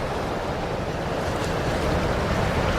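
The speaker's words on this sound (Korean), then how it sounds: "바람이 해변으로 얼음 파도를 몰고 옵니다." Strong wind drives icy waves onto a cold northern beach near Churchill in late October, a dense, continuous roar of surf and gusting wind at steady loudness.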